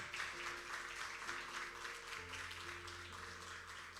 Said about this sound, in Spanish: Vamos, aplauda a alguien allí